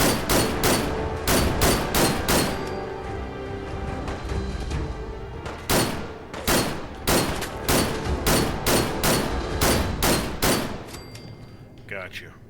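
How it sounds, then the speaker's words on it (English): Enemy gunfire in Fallout 4 comes in rapid bursts and single loud reports, dense volleys with short pauses, near and forceful, with brief talk underneath. "He's shooting up there."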